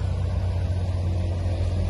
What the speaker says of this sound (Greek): Και αυτοκίνητα που μπορούν να μπουν μέσα στις λάσπες